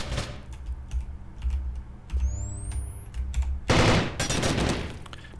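Rapid video game gunfire during a competitive match, with dense bursts of shots and a heavy loud volley near the end, mixed with keyboard-like clicking and game ambience.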